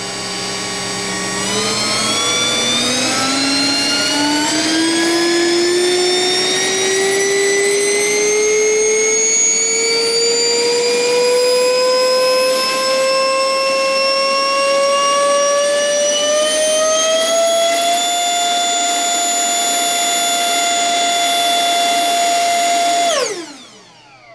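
A loud electric ducted fan spins up with a rising whine, climbing steadily in pitch for about twenty seconds before cutting off abruptly. No talking.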